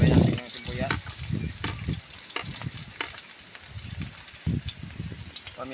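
Chili and onion sauté in hot oil, a close steady sizzle with scraping and stirring clatter, while a person talks over the cooking throughout.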